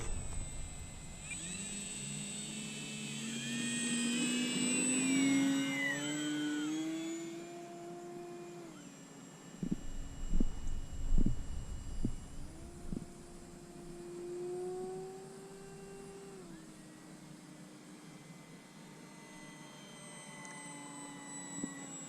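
A small model airplane engine, an E-flite Maule M7, whines with rising and falling pitch as it passes overhead, loud at first, then steadier and droning in the distance.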